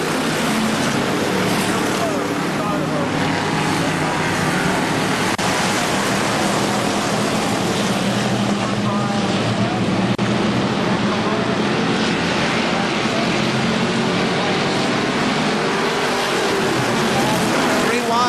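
Pure Stock race cars roar around KilKare Speedway in a dense, unbroken wash of engine noise, with an announcer's voice running over it throughout.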